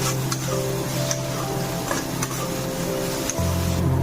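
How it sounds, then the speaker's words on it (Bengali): A spice paste for chicken kosha fries in a pan over low to medium flame, giving a steady close sizzle with a faint hum. Light ticking stirs punctuate it now and then. "লো টু মিডিয়াম ফ্লেমে মশলাটাকে ভালো করে কষতে হবে"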